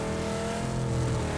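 A vehicle engine drives nearby in PUBG, a steady droning motor hum with a slight rise in pitch, loud and close for a brief moment with no talking.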